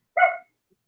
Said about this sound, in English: Every time you say something, he just barks for you.